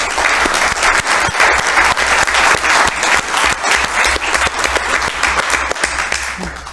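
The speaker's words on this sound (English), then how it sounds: "So please, a round of applause for Solange." Loud, dense applause from an audience at a meeting, sustained clapping from many hands filling the whole stretch without pause.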